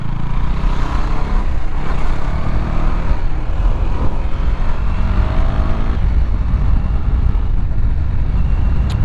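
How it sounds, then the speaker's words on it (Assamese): Continuous engine drone of a motorcycle with a stock exhaust while riding toward Meghalaya, loud and close with steady wind rush. "বাইক পুৰা ষ্টক মানে এক্সজষ্ট লগোৱা নাই"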